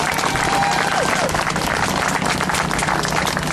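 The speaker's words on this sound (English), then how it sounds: "let's give a good Teamsters applause for Sandra" A crowd of Teamsters at a Red Cross strike rally claps, a dense and steady round of applause from many people close by, with faint crowd murmur underneath.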